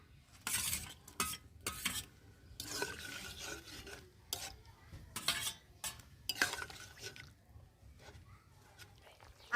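Fried shing fish being added to a pan of papaya shukto and stirred, with repeated scraping and clinking of a utensil against the pan in uneven bursts, close and fairly quiet.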